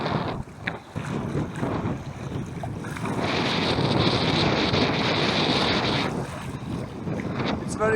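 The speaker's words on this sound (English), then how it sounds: "It's very windy, probably there will be lots of wind in video" Strong wind gusts at Balos beach on Crete, roaring steadily into the microphone with a rough, buffeting rush that swells in the middle and persists throughout, with surf-like noise underneath.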